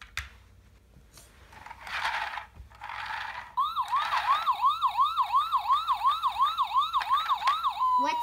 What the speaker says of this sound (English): Let's wait for this sirens to turn off.